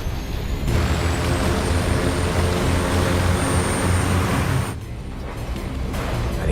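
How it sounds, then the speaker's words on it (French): Airplane taking off at full throttle: a loud, steady broadband engine roar with heavy low rumble that holds for several seconds, then drops slightly in level near the end. "Et nous avons un autre décollage impeccable."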